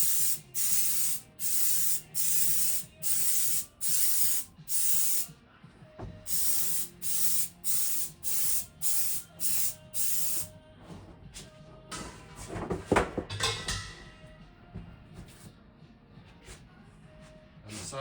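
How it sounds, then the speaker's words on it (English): Spray adhesive is applied to insulation panels inside a van in rapid rhythmic bursts, about a dozen close, loud hissing pulses. They then turn into a longer, more irregular spray with some handling thumps. "what we're going to do is give this a spray, same as that, both sides"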